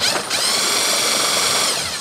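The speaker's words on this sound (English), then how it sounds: "We're going to use the drill to spin that pulley and see if our front wheels turn." A steady high-pitched whine of a drill spinning the drive pulley of a Craftsman M26 lawn mower to test its gearbox, running continuously at an even pitch, close by.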